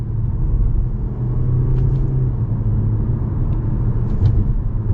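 A 2021 Toyota C-HR Limited with a CVT accelerates in manual mode, its engine drone a steady, loud low rumble heard from inside the cabin, with no talk over it.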